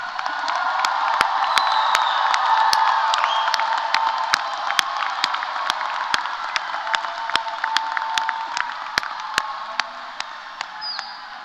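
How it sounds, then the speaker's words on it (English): A large crowd at a TCC commencement ceremony applauds and cheers for the graduates, with whoops and shouts rising over steady clapping, then thinning into scattered sharp claps as the noise fades. "Audience, let's give our graduates a big round of applause."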